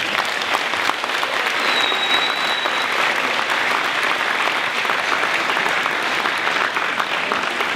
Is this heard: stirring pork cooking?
no